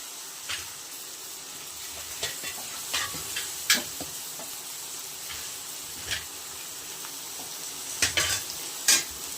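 Finely chopped tomato pieces with turmeric fry in a pan for a country-chicken curry, a continuous close sizzle broken by irregular stirring knocks and scrapes.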